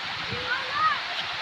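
Tegheriya waterfall in Sonapur rushes as a steady broadband roar, continuous and fairly close, with voices faintly present.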